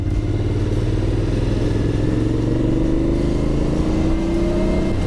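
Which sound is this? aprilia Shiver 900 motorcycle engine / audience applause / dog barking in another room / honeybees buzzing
aprilia Shiver 900 motorcycle engine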